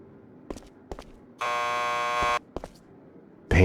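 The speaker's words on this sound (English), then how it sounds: "Just press the buzzer by the door." Door buzzer at a police lockup in the game Max Payne 2, one loud, flat electric buzz lasting about a second, set between footsteps and clicks, with a further noise starting at the end.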